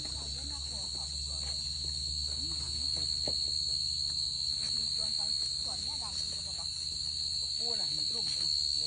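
Crickets chirp in a dense, steady, loud chorus that never lets up, with faint voices talking low underneath.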